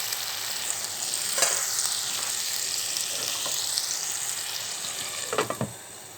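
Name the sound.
stirring bitter gourd frying in a pan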